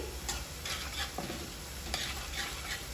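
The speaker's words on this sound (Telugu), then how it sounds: "ఇప్పుడైతే ఒక అర స్పూను పసుపు వేసుకొని ఒకసారి అయితే కలుపుకోవాలి" Onions and green chilies frying in oil with turmeric, stirred in a pan: a steady close sizzle with rhythmic scraping strokes of the spoon across the pan.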